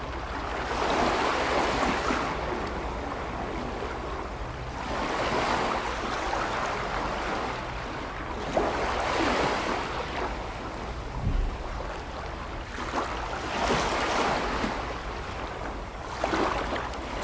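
Ocean waves roll onto a beach in Portugal, each surge swelling into a broad hiss and receding in slow cycles a few seconds apart, with steady wind buffeting the microphone underneath.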